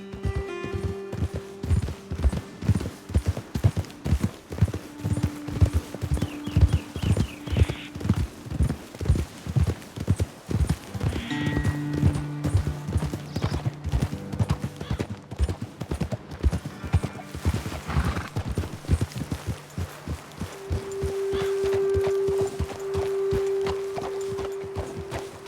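Horses' hooves clip-clop steadily on a trail in the video game Red Dead Redemption 2, an even walking rhythm up close, with occasional snorts and whinnies and soft game music tones underneath.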